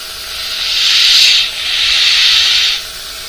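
An air compressor feeding a spray gun at a constant 20 pounds of pressure for stencil-free fade painting produces a loud airy hiss in two long bursts with a brief dip between, no talk.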